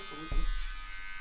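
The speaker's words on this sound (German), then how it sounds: "Der Rasierer ist wirklich Müll" Electric razor buzzing briefly through hair as a sister shaves a man's head bald, a loud burst with a sharp onset then a steady hum, close by.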